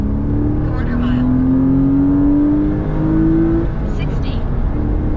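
A Porsche Boxster accelerates hard on a quarter-mile drag run, its engine note climbing steadily in pitch under loud, continuous cabin and road noise, with people talking over it.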